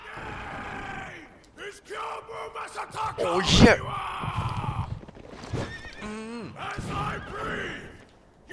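A horse whinnies and neighs loudly inside Sekiro: Shadows Die Twice, the cries rising sharply to a peak midway, with hoof clatter and gasping vocal sounds around it and talk underneath.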